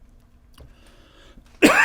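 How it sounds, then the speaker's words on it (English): A single loud, harsh cough close to a live podcast microphone, bursting out suddenly at the end after a stretch of quiet room tone. "So attractive, coughing into the microphone."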